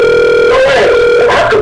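The ringback tone of an outgoing telephone call sounds loud and steady, briefly wavering midway as background noise rises, then continuing.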